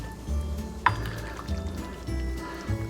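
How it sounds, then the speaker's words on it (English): Buffalo chicken pasta bake mixture being lightly stirred in a dish: soft, wet squishing and scraping that comes in slow repeated passes, close by, with one brief sharper clink from the spoon partway through. "So I'm just lightly stirring all of this in."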